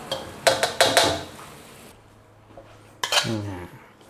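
Stir-fried kale with pork and shrimp paste is scooped from a pan onto a plate, with several loud metal scrapes and clanks of a spatula in quick bursts, a pause, then another clatter; no speech.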